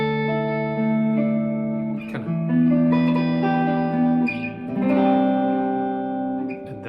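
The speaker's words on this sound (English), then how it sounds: "There is some delay and reverb on that amp" Sustained chords from a 2012 Gibson Les Paul Studio electric guitar ring out through an amp with a long delay and spacious reverb, notes blooming and overlapping as they fade into echoes.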